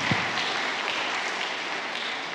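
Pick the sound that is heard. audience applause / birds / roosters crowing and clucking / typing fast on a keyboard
audience applause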